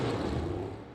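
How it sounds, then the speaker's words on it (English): A Toyota NASCAR Cup race car engine gives a loud, continuous roar for about a second, full of low rumble, easing off slightly at the end. "This is the sound of a Toyota Cup car."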